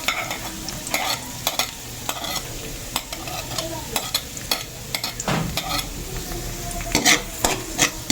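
Garlic and tuna pasta being stirred and fried in a pan, with steady sizzling and repeated scraping strokes of a utensil against the cookware, close and clear, no talking.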